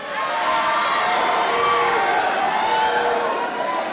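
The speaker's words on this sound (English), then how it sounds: "Roy could hardly stop the students from cheering for their favorite teachers" Graduating high school students cheering and shouting for their favorite teachers at a ceremony, a loud sustained crowd roar with whoops and overlapping voices.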